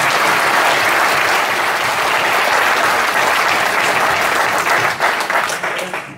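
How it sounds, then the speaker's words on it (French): A hall audience at a political meeting in Toulon breaks into loud, sustained applause, dense clapping from many hands that holds steady before thinning out and fading at the end. "À vous applaudissements."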